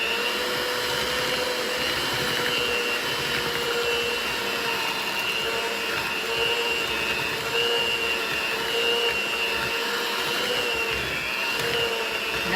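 An electric mixer runs steadily and close by with a continuous whirring hum as it blends peanut butter cookie dough, with no voices.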